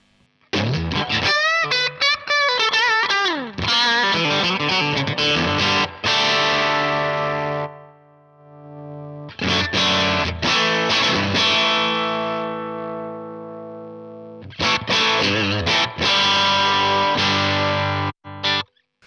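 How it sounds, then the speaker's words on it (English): Combo Deluxe 65 guitar amp on its dirty channel with reverb, distorted guitar chords and riffs played in bursts with ringing sustain and reverb tails between phrases, loud and alone. "on the fly, go from your clean to your dirty channel with reverb"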